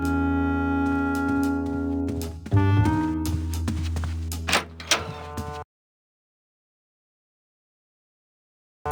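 A door in Grim Fandango rattles on its handle without opening, a cluster of clunking knocks and latch sounds over a steady tonal backdrop that stops abruptly into silence.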